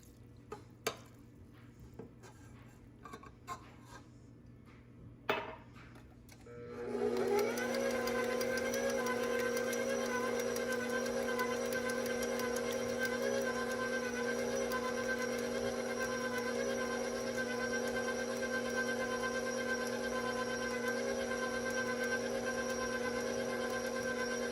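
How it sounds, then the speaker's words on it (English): An electric mixer whirs to life after a few quiet clinks and keeps running as a steady, loud motor hum with a bright whine, beating chocolate muffin batter for glazed donut muffins. "I'm going to restart my mixer for a second to mix in those ingredients."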